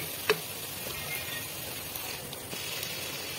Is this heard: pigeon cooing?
no